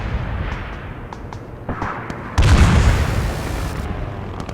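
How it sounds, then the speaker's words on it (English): Airstrikes pounding front lines in Arma 3, heard through Blastcore Phoenix and JSRS Dragonfyre sound mods: a low rumble of distant bombardment with faint cracks of gunfire, then one heavy nearby explosion bursting out and rolling into a long fading boom. "And those airstrikes are still coming down."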